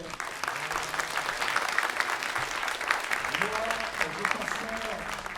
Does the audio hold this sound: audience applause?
yes